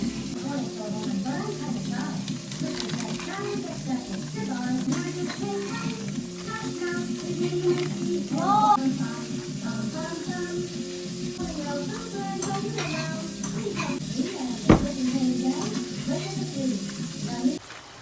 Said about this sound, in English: I'm gonna brown them on the stove